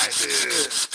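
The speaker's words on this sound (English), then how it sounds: "We're going to trim the finger down." A prop finger trimmed down by sanding or rubbing, a close, steady scratchy rasping in quick repeated strokes, with no talking.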